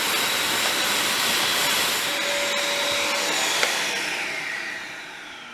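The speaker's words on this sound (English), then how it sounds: "And all you do is attach that to your vacuum cleaner." A vacuum cleaner runs close by while cleaning out a tumble dryer, producing a loud, steady airy roar and hiss that fades toward the end.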